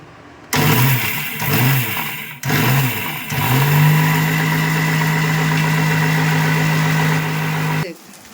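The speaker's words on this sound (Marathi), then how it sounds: "आता हे सगळं मी बारीक करून घेते." A mixer grinder grinding a fennel spice mix, loud and close, in short pulsed bursts that start and stop, then one long sustained whirring run before it cuts off.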